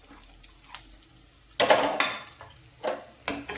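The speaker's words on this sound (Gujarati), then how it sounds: "ડુંગળીને પણ આપણે સારી રીતે તેલમાં સાંતળીશું" Chopped onions sauté in oil in a pan, heard as a quiet background sizzle broken by several short bursts of stirring and scraping, close by and without talk.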